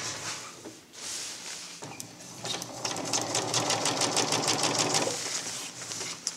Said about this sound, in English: I'll probably run another seam to keep things together while I do my rolled hem at the top